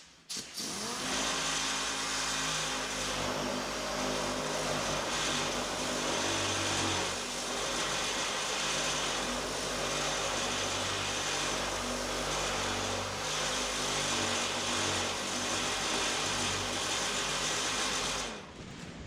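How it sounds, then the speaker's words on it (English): A DA sander with 80 grit paper works Bondo filler on a car fender, a continuous loud motor whine with a buzzing, rasping abrasive hiss that starts and stops cleanly, no talking over it. "I'm going to get my DA going and we'll get this sanded"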